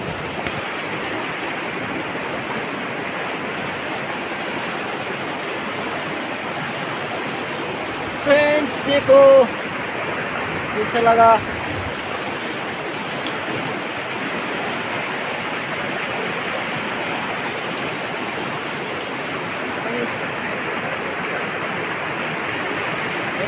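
The Baitali river flows with a steady broadband rush near hills, constant and enveloping, while a voice briefly speaks over it partway through.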